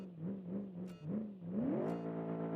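Car engine in the driving simulator BeamNG revving in short rising pulses, three swelling whines climbing in pitch with brief clicks between, up close and moderately loud without talk.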